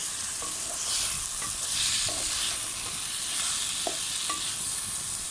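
Green chilies and tomatoes sizzle in a pan with sago, a steady crackling fry with a spoon stirring and scraping now and then, close and fairly loud.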